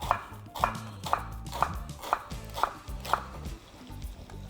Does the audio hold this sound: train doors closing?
no